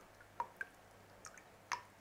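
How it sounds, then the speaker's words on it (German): Water drips from a plant pot being drained after watering, a few faint separate drops falling at irregular intervals with quiet pauses between them. "ich muss im Moment ein bisschen abtropfen lassen"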